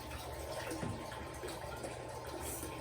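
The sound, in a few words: filling a spray bottle with aquaponics water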